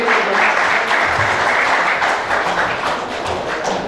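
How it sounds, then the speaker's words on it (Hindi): A crowd at a business meeting in Allahabad gives loud, steady applause for the senior members, continuous close clapping with a few heavier thumps throughout. "इन सभी के लिए एक जोरदार ताली आप लोगों से जोरदार ताली"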